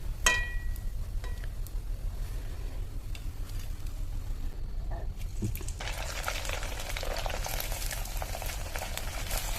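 Papads fry and puff in hot oil with a continuous close bubbling sizzle, a few faint clinks early on, and a denser, brighter crackle swelling in the last few seconds.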